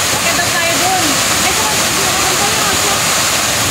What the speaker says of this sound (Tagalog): Yan yung falls. The Busay Falls.